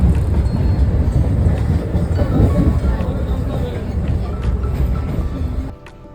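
A loud rumbling of a moving train with rattling and some background chatter, then it cuts to a quieter space near the end.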